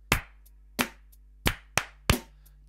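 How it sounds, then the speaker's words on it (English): Five sharp, dry hand claps spaced in an uneven rhythm, close and isolated against a quiet background with no talking. "So I'm going to clap it."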